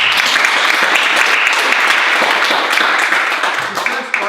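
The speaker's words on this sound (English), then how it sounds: "Give yourselves a round of applause." Dense applause from a crowd, steady and full for several seconds, then thinning out as it fades near the end.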